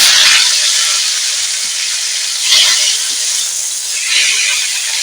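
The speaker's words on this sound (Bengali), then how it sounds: "এই সিমটা একদম অল্প করে ভেজে নিচ্ছি" Flat beans frying lightly in a pan, giving a loud, close, continuous sizzling hiss that swells and eases a few times.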